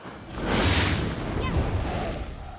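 Fireworks in The Elder Scrolls Online, heard as a deep booming burst with crackling rumble that swells and fades over a few seconds, close and fairly loud.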